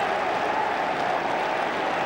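A dense, steady roar of cheering and applause from Everton fans in a football stadium, broad and continuous with no breaks.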